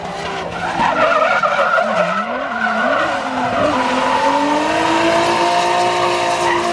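A car drifting with wheel lift on a track, tires squealing and skidding continuously with wavering, rising and falling pitch over a steady engine drone. Loud and fairly close, with no voices.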